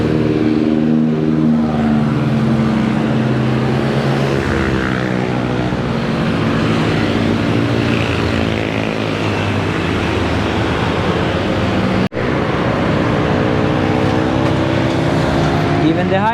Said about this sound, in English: Walking along this busy highway here in Semarang, going up the mountain, and the traffic just coming